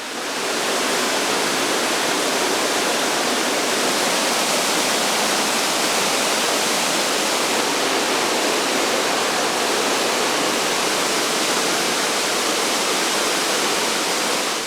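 A river in Albania runs over rocky steps into crystal-clear pools, giving a steady, dense, loud rush of flowing water close by with no breaks or voices.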